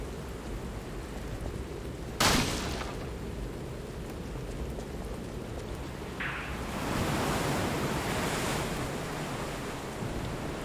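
Stormy sea in a video game, a steady broadband wash of surf and wind that swells louder in the second half, broken by a sharp splash or gust burst near the start.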